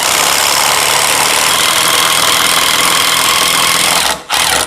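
A power drill drives a self-tapping screw into wood with a steady, loud motor whir that runs unbroken for about four seconds, cuts out briefly, then resumes.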